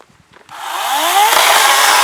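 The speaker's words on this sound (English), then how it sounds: "really let it get up to RPM." A power saw on a homestead revs up from quiet to a loud, rising whine that climbs in pitch and holds at full speed, close by and alone.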